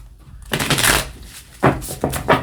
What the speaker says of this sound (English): Let's give it a bit of a shuffle.